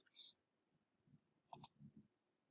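Computer mouse clicking at a desk, a quick pair of sharp clicks in a quiet room, with soft speech before and after.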